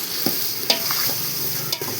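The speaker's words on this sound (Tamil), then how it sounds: "நல்லா வதக்கணும். பொன்னிறமாக வதக்கணும்." Vegetables sautéing in a pan for a wedding-style vegetable biryani make a close, continuous sizzle, with several sharp scraping clinks from a spoon stirring against the pan.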